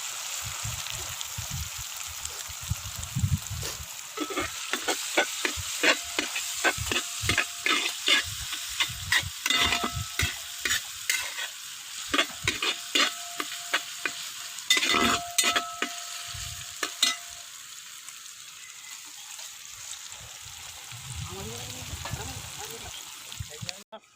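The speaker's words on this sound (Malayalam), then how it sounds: "ഇഞ്ചി പേസ്റ്റ് ഇട്ട് കൊടുക്കാം." Ginger paste fries in a pan as it is stirred, with a constant soft sizzle broken by many sharp, irregular scraping and clattering strokes of the spoon, which fade toward the end.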